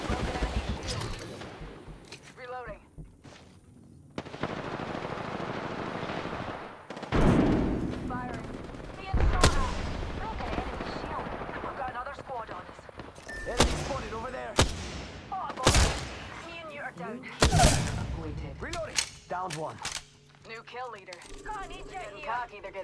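Gunfire rings out in a battle royale video game: sharp single shots and rapid bursts, some close and loud, others farther off, spaced irregularly, with in-game voices talking between them.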